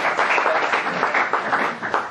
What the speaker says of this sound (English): You can have a round of applause for yourselves too.